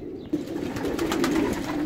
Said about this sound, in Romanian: Ia uitați și aici, o mare de porumbei